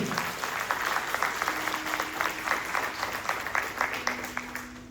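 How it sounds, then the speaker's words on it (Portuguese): A church congregation applauds, many hands clapping in a steady, moderately loud patter that carries on for several seconds and eases slightly toward the end. "dá um aplauso para Jesus aí"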